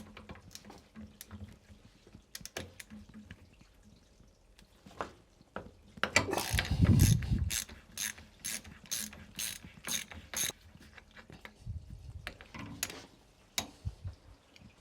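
A ratchet with a 22mm socket removes the rebound adjuster from the bottom of a motorcycle fork clamped in soft jaws, starting with scattered soft clicks and building to a loud run of rapid, evenly spaced ratchet strokes midway.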